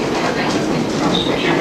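A train rolls along the rails in a steady, continuous rumble and hiss, heard from on board with no break over the brief moment.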